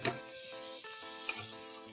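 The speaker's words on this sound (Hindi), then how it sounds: "अब हम इसमें डालते हैं 250 ग्राम पनीर जिसे भी मैंने स्क्वायर में कट कर लिया है।" Square-cut paneer cubes, 250 grams, sizzling in a pan with onion and capsicum, a steady close frying hiss with faint stirring clicks and no voices.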